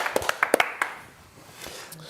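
Brief applause for Chris from a small audience, a few sharp claps in the first second that fade quickly into quiet room noise.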